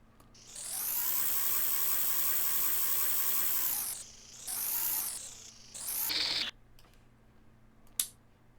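A small Z scale model train led by a Central Pacific diesel with three gondolas runs on a layout, giving a thin high whine that holds steady, then surges twice more before a faint click.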